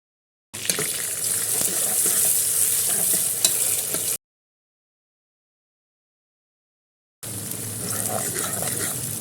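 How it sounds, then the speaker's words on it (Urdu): Chopped onion frying in hot ghee in a pan gives a loud, steady sizzle and crackle for a few seconds, then stops and starts again. "اب میں اس کے اندر پیاز ڈال دوں گی"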